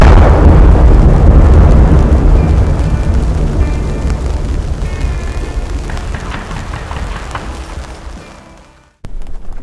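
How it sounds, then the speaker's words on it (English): A roadwork blast near Seward, Alaska, rumbles as a loud, deep explosion that slowly fades over several seconds, followed by a sharp cutoff and quieter ambient sound. "Camp life was kept interesting with periodic blasting from the roadwork around"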